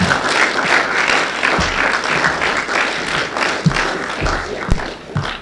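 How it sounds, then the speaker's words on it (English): An audience at a school senior project presentation claps for a student named Thatcher, a steady close wash of applause with individual hand claps standing out. "So that was just the clapping for Thatcher."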